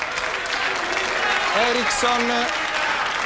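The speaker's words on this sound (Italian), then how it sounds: "Scusate, l'applauso per Luisa Corna è inevitabile." Studio audience on an Italian football talk show applauds for Luisa Corna, a steady wash of clapping throughout with a voice speaking over it.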